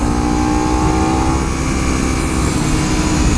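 A BMW S1000RR motorcycle engine drones steadily under braking, a continuous loud mechanical whine with no pauses and no voices.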